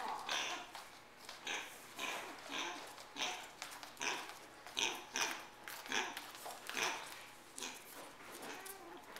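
A pig grunts and snuffles repeatedly in short, rhythmic bursts close by, with faint background noise throughout.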